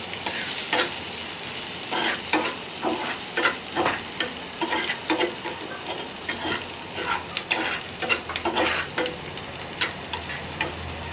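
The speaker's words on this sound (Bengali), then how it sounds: "পেঁয়াজটা ভাজা হচ্ছে।" Onion fries in a pan with a continuous sizzle, broken by repeated scraping strokes of a spoon stirring it, close and steady, with no talking.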